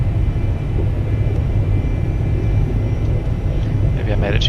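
A Citation business jet builds speed down the runway for takeoff in the X-Plane 11 flight simulator, giving a steady, loud engine roar and rumble throughout, with a brief higher whine near the end.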